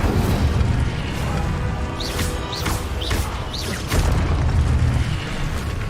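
Incendio fire spell blasts in the video game Hogwarts Legacy, sounding as several booming bursts over a dense, continuous roar of game effects and music.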